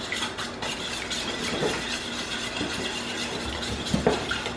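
A spoon stirs a sweet, sugary mixture in a bowl during home meal prep, giving a steady scraping swirl with a few light clinks of utensil against the dish.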